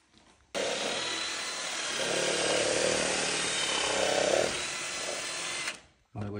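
A power tool drills a hole into a KTM 1290 motorcycle seat, a loud continuous whirring grind that starts abruptly, wavers in pitch as it bites the material, then cuts off before a brief restart.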